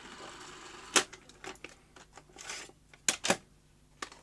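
A Sony Betamax SL-F1 portable recorder loading a tape, heard as a close series of sharp mechanical clicks and clunks, some spaced apart and others in quick pairs, with no speech.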